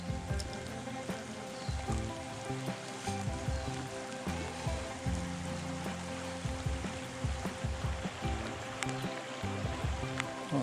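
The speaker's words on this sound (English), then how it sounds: "Nice looking little creek." A small creek flowing at a day use area in Tasmania, a steady close trickle and babble of water running on alone with no talk.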